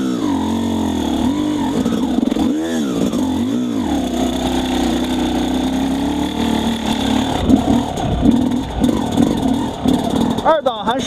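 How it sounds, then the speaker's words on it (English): An XTNG GEN3+ 36 motorcycle engine running steadily during a riding test, a loud continuous drone that rises and falls with revs, with speech over it. "Let's try again and aim to keep the engine running throughout the test."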